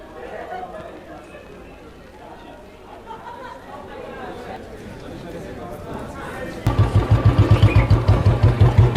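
A motorcycle starts up partway through and idles close by with a loud, steady, throbbing pulse, after a stretch of quiet outdoor chatter among people.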